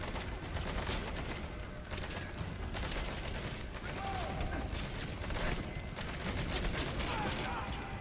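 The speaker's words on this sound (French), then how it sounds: "Là, il y a trop de gens qui tirent." Dense overlapping gunfire from many shooters rattles continuously in Metal Gear Solid 5, a chaotic fusillade with a voice speaking underneath.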